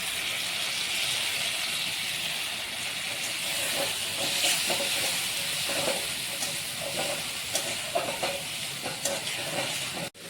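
Ground masala paste for dhaba-style chicken sizzling in a hot pan, a steady, loud hiss running continuously with faint crackles and stirring scrapes throughout.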